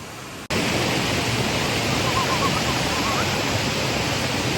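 Strong, broadband rushing of water flowing through a pipe in a forest, starting abruptly and continuing as a loud, steady roar.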